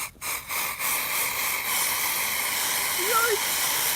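A hot pot over a campfire in winter gives a steady loud hiss of sizzling and steam, with a few soft knocks at the start and a faint squeak near the end.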